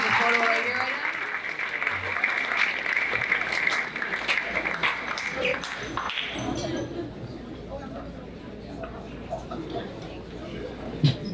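Guests at a school sports award dinner applaud a girls' varsity soccer team, steady clapping with chatter and clinking dishes, fading into room murmur partway through.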